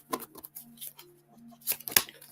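Tarot cards are shuffled in short bursts of crisp riffling and snapping, a few quick clusters close by and fairly quiet, with a faint steady hum behind.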